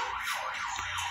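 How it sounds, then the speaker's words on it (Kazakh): Ambulance siren wailing outside, a continuous rising and falling tone with no voices, steady and moderately loud throughout the short stretch. "Сыртта жедел жәрдемнің дауысы шығып жатыр."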